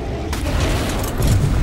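A heavy boom of gunfire in ARK Survival Evolved, Ragnarok map, a single deep blast that swells and stays loud and rumbling through the end.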